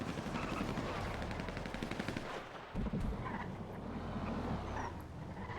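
Gunfire crackles through a video game turf fight on Chamberlain Hills, SMG against Hellfire, rapid overlapping automatic bursts rattling continuously at moderate loudness with no voices over them.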